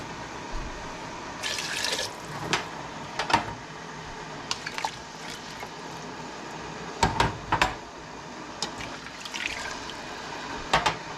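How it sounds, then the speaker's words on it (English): Water poured into a pot of moose meat stew, heard as a few short splashing bursts over steady background noise, close by. "I think we need more water."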